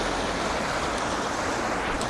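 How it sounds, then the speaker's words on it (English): Water rushing along a small babbling brook beside a hotel in Thailand, a steady broadband wash that runs unbroken and fairly close for the whole stretch with no voices. "little babbling brook right next to the hotel, right at the foot, so you can come out here and enjoy yourself"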